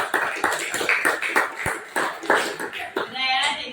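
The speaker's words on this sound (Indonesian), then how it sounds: "Sudah, coba tepuk tangan dulu." Students in a classroom clap their hands together in rough unison, a quick run of sharp, fairly close claps mixed with voices talking and calling out.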